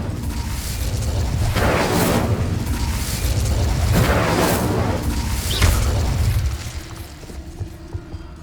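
An Incendio fire spell in Hogwarts Legacy roars as a steady, loud rush of flame with repeated pulsing booms, then cuts off, leaving a few faint clicks.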